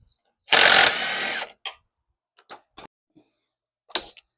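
Close, loud ratchet-wrench whir on a Ford 9-inch rear end, one sustained spin followed by a few scattered clicks and knocks of metal.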